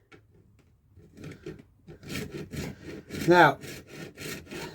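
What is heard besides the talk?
24 TPI hacksaw blade sawing 3D printed helmet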